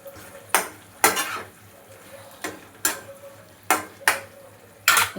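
Meal maker (soya chunk) manchurian cooks in a pan, with a faint frying hiss under a run of sharp metallic spatula scrapes and clanks against the pan, roughly one strike every second, close and fairly loud.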